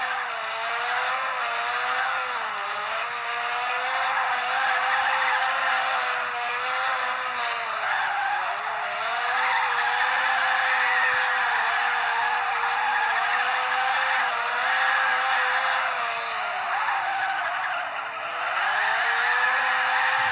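Car tyres skid and squeal continuously while drifting around a track in a racing video game, with a steady, loud engine note that rises and dips with no talk.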